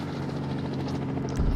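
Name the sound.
helicopter arriving in a video game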